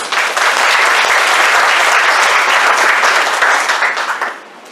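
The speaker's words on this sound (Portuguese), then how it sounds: "Uma salva de palmas para todos vocês" Loud, dense applause from an audience of doctors and therapists at a talk, sustained clapping at full strength that fades out near the end; no talking.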